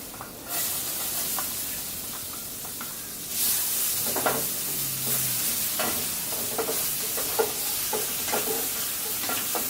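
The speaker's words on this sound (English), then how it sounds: "when the moment I put the onion, I fry the onion" Onion frying in a hot, lightly smoking pan gives a steady close sizzle, with a louder surge of hiss partway through and occasional scraping stirs.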